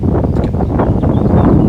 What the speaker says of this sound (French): Waouh, le vent.